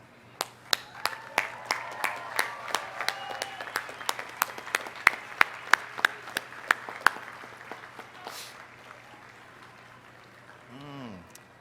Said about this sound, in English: giving them a well-deserved round of applause